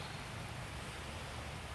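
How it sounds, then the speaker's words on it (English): Steady, soft rain falling outdoors by spring flower beds as a storm approaches, a faint even hiss with no other sounds. "It's raining. So there's a big storm getting ready to come in."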